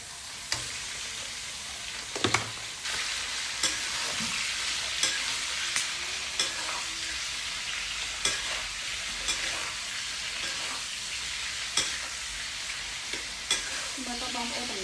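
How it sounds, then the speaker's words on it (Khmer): Pork tossed into a hot pan with garlic already fried red, for a stir-fry of choy sum and pork: a steady loud sizzle runs throughout, broken by regular scraping clacks of the spatula stirring every second or so. "ឥឡូវនេះខ្ញុំនឹងធ្វើការដាក់សាច់ចូលបងប្អូន"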